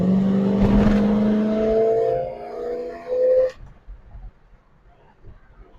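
Passing road traffic heard from inside a car running AFB carburetors: a vehicle whooshes by with a rising whir over the first few seconds, then fades to a low idle rumble.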